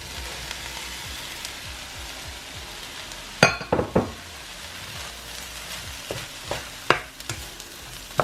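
Rice being stir-fried in a pan for shrimp fried rice, a steady sizzle with scattered sharp clinks and scrapes of the spatula against the pan, close and fairly loud with no talking.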